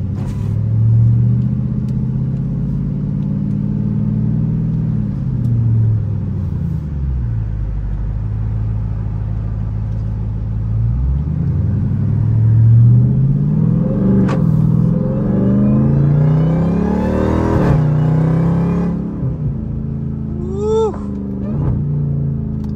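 A Dodge Durango Hellcat in track mode revs its engine loudly from inside the cabin, with a deep rumble that surges, drops back to idle, then climbs again through throaty accelerations, while a voice talks faintly underneath.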